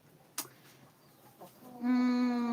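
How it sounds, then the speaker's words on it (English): Hens on a small egg-laying flock make a couple of soft, short sounds, then a sustained, loud, nasal call rising in close, with no talking. "Happy hens means more eggs."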